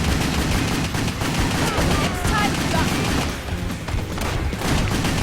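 Pistol gunfire in the video game WET, a dense, continuous rattle of rapid shots and impacts mixed with game noise, and someone talking over it at times.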